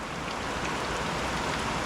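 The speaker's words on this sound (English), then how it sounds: "Yeah, man, it's raining now." Steady rain falls outdoors, a dense, even wash of hiss and patter on surfaces that holds at the same level throughout with no breaks or other sounds.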